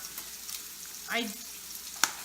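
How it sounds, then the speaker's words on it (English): Soft, steady sizzling of bacon, sausage and a burger frying in a pan, with a brief murmur of voice and a sharp clink near the end. "burger's in the pan, sausage, bacon are both frying right now"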